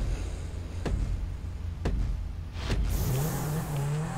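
Zentorno supercar in a racing video game, with three sharp clicks spaced about a second apart and then the engine note rising as the car pulls away, fairly quiet overall.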